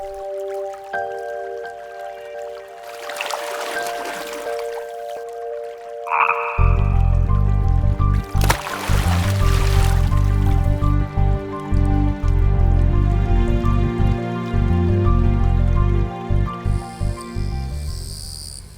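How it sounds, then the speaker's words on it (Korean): A frog croaks repeatedly in a wet natural setting as a tiger keelback snake bites its leg, the calls rising over dripping water and a low rhythmic backing score, close and fairly loud with no talking. "소리 없이 다가가 개구리 다리를 물었습니다."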